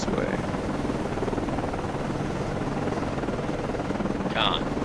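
Aircraft launch from a destroyer in a Cold War naval combat simulation game: a steady helicopter-like rotor and engine roar runs throughout at constant loudness, with faint game voices and a brief chirp near the end.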